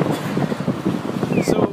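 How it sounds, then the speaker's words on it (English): Gusty wind buffets the microphone with a rough, rumbling roar throughout, loud and close. "yes, it is windy, by the way, I realize that"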